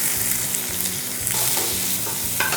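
Finely chopped onion goes into hot oil with mustard seeds and urad dal, sizzling loudly and steadily while a spoon stirs through the pan in short scraping strokes.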